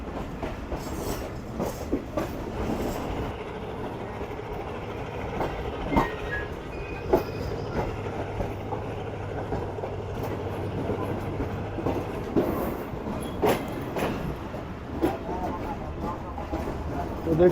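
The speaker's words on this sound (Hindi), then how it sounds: "तो वो रहा लोकोमोटिव हमारी ट्रेन का ZCU 36308" Karakoram Express train hauled by a ZCU locomotive approaching Rohri Junction in winter, steady rumble of wheels with clickety-clack and occasional squeals, heard from close by on the platform with some talk.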